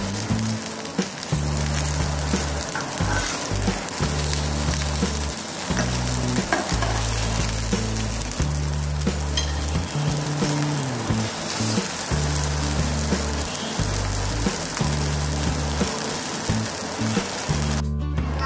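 Crispy potato and rice-flour kebabs fry in hot oil with a dense, continuous sizzle and crackle throughout, under rhythmic stirring or hum-like low thuds; no talk is heard.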